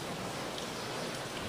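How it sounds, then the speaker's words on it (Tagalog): Light rain falling steadily in the Southern Tagalog region near Laguna as Typhoon Ruby passes, a soft, continuous wash of drops with no voices, even and unbroken throughout. "bahagya pa rin bumubuhos na ulan"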